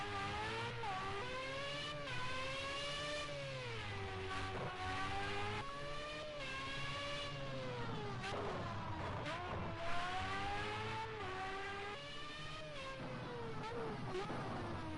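Formula race cars pull out of the pits at Laguna Seca in a racing sim, their engines whining loudly and steadily as the pitch rises and falls through gear changes, with several cars overlapping and no voices.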